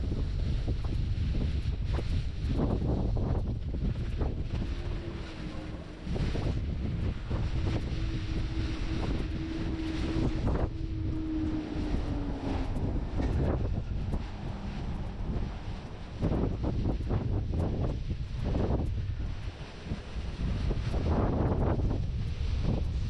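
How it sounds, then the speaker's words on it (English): Steady wind roars and buffets a microphone on a windy, rainy day along the Cairns Esplanade, a broad continuous rush with gusts, and no talking. "Rainy day. A windy rainy day."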